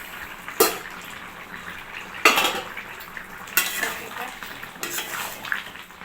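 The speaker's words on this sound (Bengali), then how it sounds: "এখন এই মশলাগুলো আমি তরকারির মধ্যে ঢেলে দেবো।" Spices poured into a simmering rui fish curry in a metal pot, with several sharp clanks of a spoon against the pan and soft stirring and sizzling between them, close and moderately loud.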